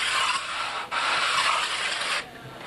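A sanding block is rubbed over a wooden joint in steady, close, dry rasping strokes, with a short break after the first stroke and quiet once the second stroke ends.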